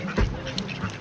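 Ducks quack in short, nasal bursts close by while being fed puffed rice at a hill-country spot in Uttarakhand, with a few quick calls over outdoor background noise.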